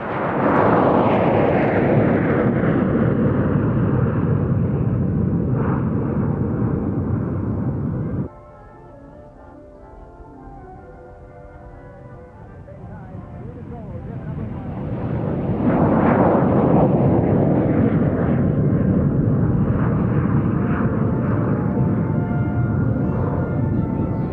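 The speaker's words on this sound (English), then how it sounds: "The 6 Kawasaki T4 jet trainers flying in the Golden Air 2" Six Kawasaki T4 jet trainers of the Japanese Air Self-Defense Force flying a display at an air tattoo, loud roaring jet passes that fade briefly to a quieter lull before another powerful pass sweeps in and sustains.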